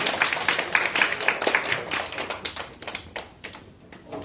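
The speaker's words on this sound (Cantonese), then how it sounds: "我哋俾一次掌聲" A small audience at an industry sharing session applauds a speaker, with dense, brisk clapping that is strongest at first and thins out toward the end.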